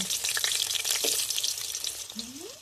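Potatoes frying in hot oil with dry chilli, bay leaf and five-spice seeds, a steady close sizzle and crackle throughout with a brief scrape near the end.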